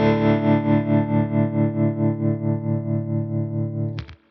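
Tone King Imperial tube preamp pushing a sustained, distorted guitar chord through stereo tremolo, the level pulsing in a steady, even rhythm, ending with a brief choppy burst before cutting off.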